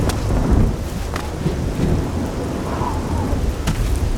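Steady rain falls in the video game Oblivion while rolls of thunder rumble through, with a sharper crack near the start, all loud and continuous with no talk.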